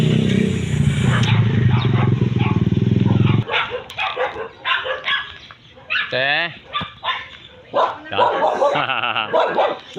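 A dog barks in short bursts, close by, overlapping with people talking.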